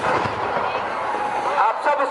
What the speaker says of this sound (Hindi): ये आतिशबाजी बहुत ही जानदार आतिशबाजी।